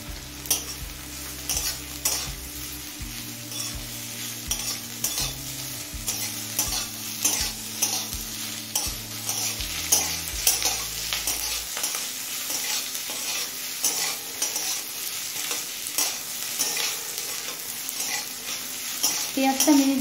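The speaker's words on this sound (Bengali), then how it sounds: "এবার এই তেলের মধ্যে দিচ্ছি বড় সাইজের একটা কুচনো পেঁয়াজ।" Large chopped onion sizzling and being stirred in hot oil in a pan, for a papaya mash dish, with steady broadband frying hiss and utensil scrapes, while a soft musical tones play beneath for the first half.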